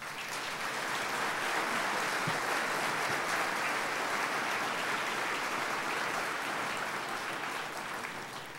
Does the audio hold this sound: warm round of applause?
yes